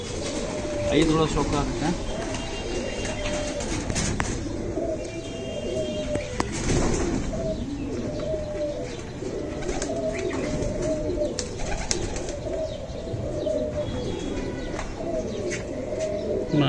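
Flying pigeons in Hobiganj, Bangladesh coo steadily throughout, close and continuous, with scattered chirps from other birds and someone talking over them.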